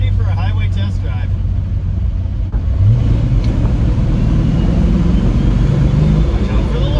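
A rebuilt 1961 Studebaker Hawk drones steadily on a highway test drive, its low engine rumble and road noise continuous throughout, with the pitch rising slightly midway as it picks up speed.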